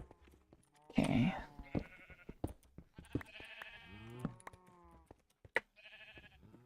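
Minecraft sheep bleat several times in short nasal calls, close and clear, scattered across the stretch alongside game sound effects and other brief in-game noises.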